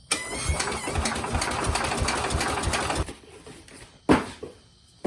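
An IH Cub Cadet 147 tractor engine turns over with a starter generator in a fast, rhythmic chugging crank for about three seconds, stops, then a brief second bump of the starter follows.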